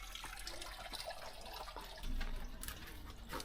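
Spring water flows out of the ground in the French countryside, a steady trickling and gurgling wash with no talk over it.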